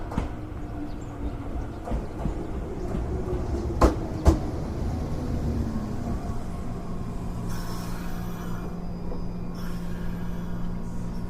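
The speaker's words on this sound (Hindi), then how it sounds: "तभी एक ट्रेन स्टेशन से गुजरती है और उसके कुछ देर बाद उनकी ट्रेन यानी वंदे भारत आ जाती है।" A train rumbles steadily through a railway station, a continuous low drone with a couple of sharp metallic clanks midway and a fading hiss toward the end, with no voices.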